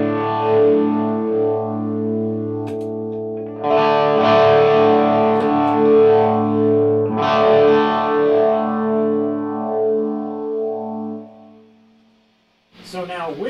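Electric guitar running through an MXR Phase 90 set to mimic the slow speed of a Leslie speaker, in a Landry LS30 wet-dry-wet rig. Sustained chords swirl slowly with a sweeping phase, then fade before a new strum enters.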